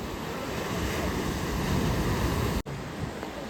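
Large ocean waves roll onto a beach at Kasheli, a continuous loud roar of surf mixed with wind buffeting the microphone, with no voices.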